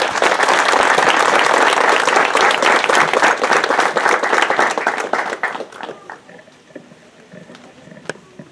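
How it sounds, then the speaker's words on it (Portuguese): Loud sustained applause from a church congregation at a thanksgiving Mass, a dense wash of clapping that fades out gradually toward the end, leaving quieter room noise. "Uma salva de palmas para a palavra de Deus."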